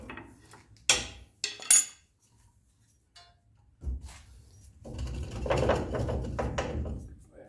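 Suspension bolts come out of a Ram 1500 with sharp metallic clinks and knocks, a few isolated near clanks first, then a longer stretch of rattling clatter, with some talk.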